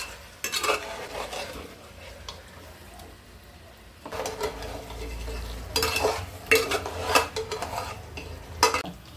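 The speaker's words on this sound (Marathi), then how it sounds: "तर व्यवस्थित फिरवून घ्यायचं" A spoon stirring mango pieces cooking down in a pot for Malvani mango raita, with steady scraping and soft clinking against the pot in uneven bursts, close and fairly quiet, over a faint background hum.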